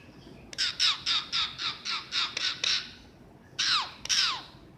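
A pet bird perched on a person's shoulder lets out a rapid series of about nine harsh, evenly spaced squawks, then two louder, longer screeches after a pause, close and with no talk.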